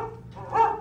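Rover the dog in Disney World's Carousel of Progress ride at Magic Kingdom gives a short bark, brief and fairly close, with a low rumble underneath.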